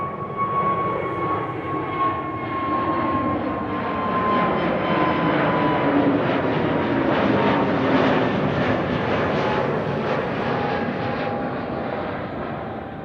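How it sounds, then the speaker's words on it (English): A KLM Airbus A321neo narrow-body airliner at Amsterdam Schiphol makes a steady, loud jet roar with a thin whine. It swells toward the middle and fades slightly at the end, heard alone without talk. "A321neo, KLM."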